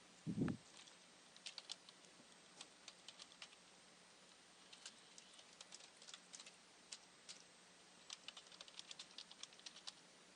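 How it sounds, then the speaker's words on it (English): A computer keyboard is used to type in an FTP path, username and password: quick, quiet, irregular key clicks in short runs, very faint and close, after one louder knock at the start, with no talking. "Then we type in our FTP path as well as the username and password."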